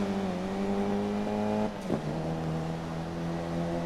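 Race car engines in the racing game GRID, including a Mini, drone steadily and loudly at high revs throughout, with a brief dip partway through as cars run close together.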